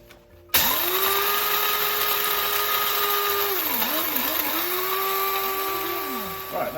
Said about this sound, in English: using this little coffee grinder. So it's a glorious smell already. Here we go then, so we're just going to grind those up.